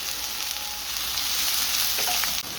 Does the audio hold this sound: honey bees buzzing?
no